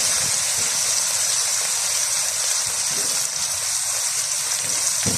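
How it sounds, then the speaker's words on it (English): Steady rush of running water pouring continuously, with faint clinks of a pan being rinsed after cooking beef curry, fairly close and loud throughout. "Just going to rinse the pan out with a little water."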